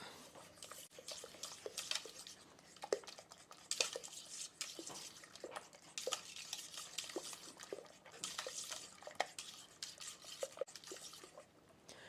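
Sour cream is stirred into a green bean casserole in a pot just taken off a countertop burner, giving soft, irregular scraping and clinking of a spoon against the pan with wet squelches throughout, close and moderately quiet.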